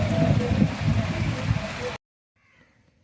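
Dense, close rain pours for about two seconds, a loud steady hiss and patter, then cuts off abruptly into near silence with only a faint trailing sound.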